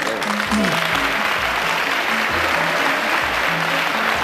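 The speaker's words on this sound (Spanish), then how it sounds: "Se merece un aplauso de todas formas." Studio audience applauding a contestant on a 1993 Telemadrid TV game show, a continuous loud wash of clapping with musical tones running underneath.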